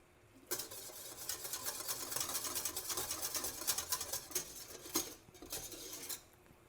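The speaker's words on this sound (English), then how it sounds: "every once in a while scrape down if there's anything climbing up the sides of the pan" A spatula scraping the sides of a pan of simmering caramel for a salted caramel tart, giving a run of close, soft scraping and clinking strokes over a low bubbling hiss.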